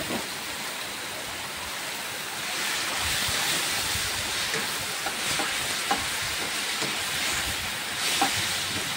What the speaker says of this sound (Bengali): এখন আমি চাউমিনগুলো দিয়ে দিচ্ছি